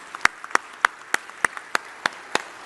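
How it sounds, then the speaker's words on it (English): A sparse round of applause at a plenary session of a defence conference in Singapore: roughly a dozen sharp, evenly spaced claps ring out alone, sounding like only a few people clapping in a large hall. "give our speakers a final round of applause"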